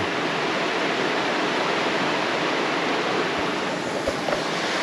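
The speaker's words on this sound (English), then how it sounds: "With the waterfall over there." A waterfall near a campsite in a very wet part of Washington State, heard as a constant broadband rush of falling water, loud and unbroken, with no talking.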